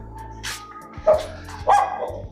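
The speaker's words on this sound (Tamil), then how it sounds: "பக்கத்துலேயே நாய்" A dog barks close by in a narrow lane of houses, about three or four sharp barks spaced unevenly over a couple of seconds.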